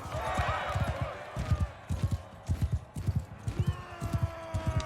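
A horse gallops in the medieval combat game Mount & Blade II: Bannerlord, its hooves striking in quick, rhythmic clip-clop groups close by, with a brief whinny-like tone and some clashing noise early on.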